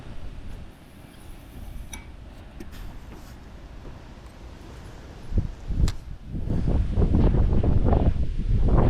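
Wind gusts at a Thames riverside fishing spot at Culham, steady low rumbling buffeting the microphone, growing louder and heavier toward the end with some faint rustling.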